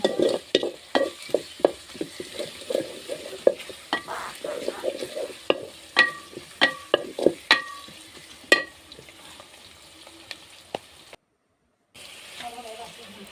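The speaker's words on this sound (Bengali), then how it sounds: "এগুলো পেঁয়াজ মরিচ ভালো করে বেজে নেব" Onions and chillies frying in a pan over a clay stove, stirred with sharp, rapid clinks and scrapes against the pan under a steady sizzle, then a brief silence before the sizzling resumes.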